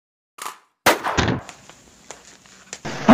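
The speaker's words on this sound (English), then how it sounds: "Why did you shoot the captain?" Cartoon gunshot sound effect from an editing app's sound library, fired after a shouted order; a few sharp cracks with clangs and a metallic ring, close and loud, in an otherwise quiet scene.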